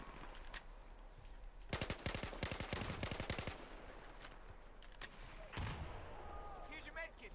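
Gunfire in Battlefield 4 multiplayer, a few scattered shots, then a sustained automatic burst of rapid rounds, followed by isolated louder cracks over a battlefield ambience.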